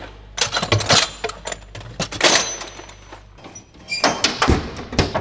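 Heavy metal socket drawer sliding open in a 2022 Ram 5500 mechanic's service truck, with sharp metallic clanks, rattling tools and sliding scrapes in irregular bursts, close and loud, no talking.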